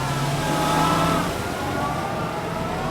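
A 903 cubic inch Cummins turbo diesel powering a Bradley Fighting Vehicle revs at close range, a loud, steady mid-pitched engine drone that rises briefly and then settles, with no talk.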